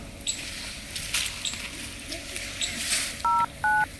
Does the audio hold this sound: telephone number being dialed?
yes